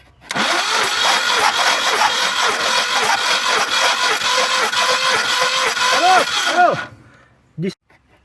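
A VAZ 2105 car's 1.5-litre engine cranks continuously for several seconds without catching, loud and close, then stops with a brief final burst.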